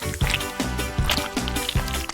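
Melted gummy bears bubble and pop in a pot, with soft wet plops and squishy liquid bursts coming in a loose, repeating rhythm up close.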